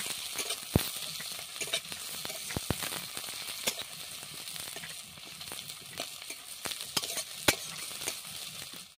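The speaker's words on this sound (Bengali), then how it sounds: "দিয়ে দিচ্ছি পেঁয়াজ কোচানো, ওর মধ্যে দিয়ে দিচ্ছি গোলমরিচ এলাচ, দিয়ে ভালোভাবে নাড়তে হবে" Sliced onions frying in oil with bay leaves, black pepper and cardamom, for a country chicken curry, give a soft continuous sizzle broken by sharp scraping clicks as a spoon stirs the pan.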